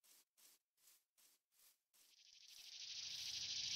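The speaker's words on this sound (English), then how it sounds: "Ooh, cicada sounds." Cicadas in Minecraft SevTech Ages: a series of evenly spaced rasping pulses, then a rising continuous shrill buzz swelling louder toward the end, faint overall with no talking.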